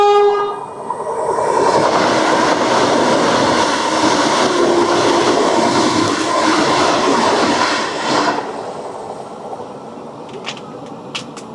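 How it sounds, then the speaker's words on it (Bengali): Vande Bharat Express on the NJP–Guwahati route passing Kalaigram station, a loud sustained rush of the train going by with horn blasts near the start, fading after about eight seconds with faint clicks afterward. "এবার আমাদের ট্রেনকে ওভারটেক করবে এনজিপি গুয়াহাটি বন্দে ভারত এক্সপ্রেস।"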